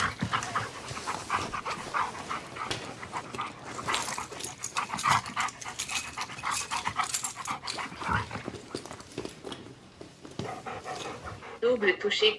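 Dog panting in rapid, breathy bursts close by, with some whimpering and soft yips mixed in, alongside shuffling noises and a person talking.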